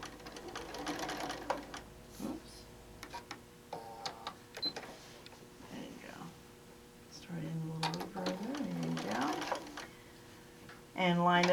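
A sewing machine stitches a quilt seam in short start-stop runs between stretches of talking, ending in a louder burst of stitching.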